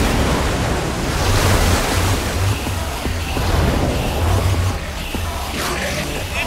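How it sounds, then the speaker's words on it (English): Water gushes out of a machine in Minecraft: Story Mode, a loud, continuous roaring wash with surging swells, like heavy surf, running throughout. "I don't know how much water this thing is going to kick out"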